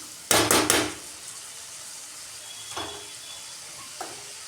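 Rice tossed with masala in a pan makes a quick burst of scraping, rattling stir strokes near the start, then a faint sizzle with two brief soft scrapes later on.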